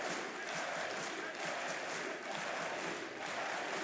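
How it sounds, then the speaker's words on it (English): Arena crowd at the R6 Munich Major esports event chanting a team's name, a dense, faint, roaring wash of voices with rhythmic pulses throughout. "So the crowd chants the team's name one more time"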